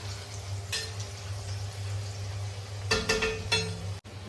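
Banana chips frying in sunflower oil, a soft steady sizzle over a low hum, broken by a few brief bursts of bubbling and stirring clatter near the end.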